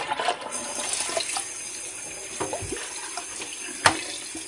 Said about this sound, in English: I might need a little bit more hotter water, because the sink is not getting very hot